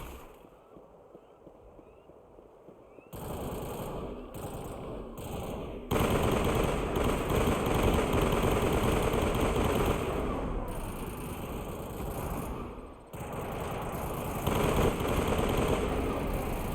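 Crossfire in the Mass Effect finale battle: after a quieter opening, loud bursts of automatic gunfire start and keep going in near-continuous volleys, with short pauses between rapid rattling rounds.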